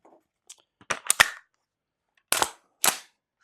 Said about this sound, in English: we're going to finish up with the L5 and just see if they can all go through 2 full mag dumps